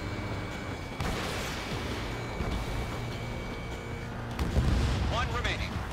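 An enemy bomber exploding in the air-combat video game Ace Combat 7: a deep, rumbling blast layered over constant jet engine roar and game effects, followed by another heavier boom a few seconds later, with radio voices talking over it.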